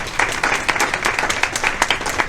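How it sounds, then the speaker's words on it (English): Audience applauding panel speakers at a sports power brunch during Super Bowl week in Miami, a lively round of clapping with distinct hand claps popping out of the steady wash, fairly close and without talk. "Let's give the ladies a round of applause."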